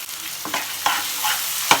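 Gobindobhog rice and spices are stir-fried in a pan, with a steady sizzle under repeated scraping stirs, close and moderately loud.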